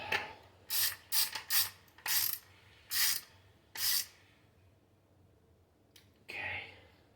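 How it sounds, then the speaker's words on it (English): Ratchet wrench clicking in short bursts, close, as a bolt is tightened during installation of LED driving lights on an Indian Challenger Pathfinder S motorcycle, about seven quick ratcheting spells, then a faint scrape. "Get it started. And then tighten it up."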